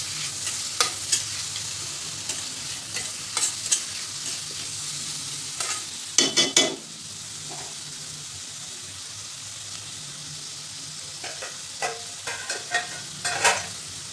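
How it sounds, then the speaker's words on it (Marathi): Onions sauté in a pan for pav bhaji, sizzling softly throughout while a spoon scrapes and stirs in short irregular bursts. "कांद्याला 4-5 मिनिट परतून घ्यायचे."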